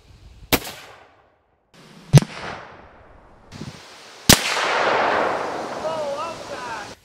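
A .243 rifle fires several sharp, loud shots through drywall outdoors, each crack followed by a short decaying echo, with some background noise between shots.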